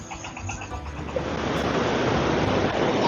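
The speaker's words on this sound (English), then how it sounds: "So if you see, the river is flowing over the bridge." Seti River water in Pokhara flowing over a bridge, a steady broadband rushing roar that swells slightly louder toward the end, close and continuous with no speech.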